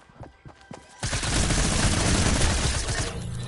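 Rapid minigun fire in a video game erupts about a second in after faint light sounds, then roars on as a loud, dense, sustained burst until the end.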